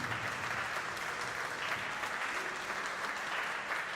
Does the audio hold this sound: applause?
yes